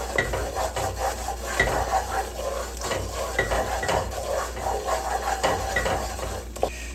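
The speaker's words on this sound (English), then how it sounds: "You can burn the flour, so just kind of keep stirring." Flour roux stirred in a pan for spaghetti casserole, a steady scraping and rubbing of spoon against pan with light bubbling, continuous and close throughout.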